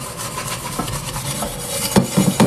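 Scrubbing a cooking pot after cooking ugali, a continuous close scratchy rubbing with rhythmic harder strokes and brief scraping bursts toward the end.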